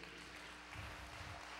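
Applause from an audience at a 2010 Kilikia Art Studio stage event, a steady dense patter of clapping that fills the short moment, with no clear talk over it.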